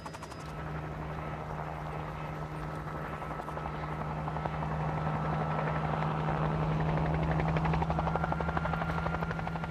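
A helicopter flying low over treetops while herding wild horses in North America thuds steadily overhead, its rotor chop and engine drone growing slightly louder and closer over several seconds.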